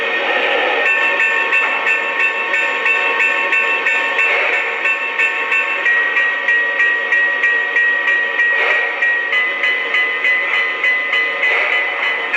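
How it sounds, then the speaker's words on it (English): A Lionel Brass Hybrid Challenger model train sounds ringing bell tones in a steady rhythm over a hissing background, bright and metallic, with no talking. "And likewise, we've got 5 bell tones."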